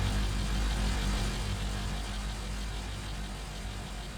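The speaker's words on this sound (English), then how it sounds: "Let's add in our granular engine again." A designed granular car engine sound effect, a dense, continuous low rumbling drone with a gritty texture, steady and fairly loud throughout.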